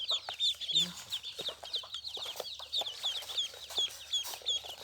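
Yi Liang ducklings just hatched in an incubator peep constantly in dense, overlapping high chirps, a near, busy chorus with no talking.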